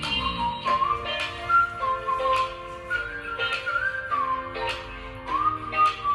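A melodic whistle line runs in the background of a song, gliding tones over the steady track and recurring in short phrases throughout.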